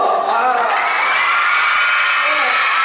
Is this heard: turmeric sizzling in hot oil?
no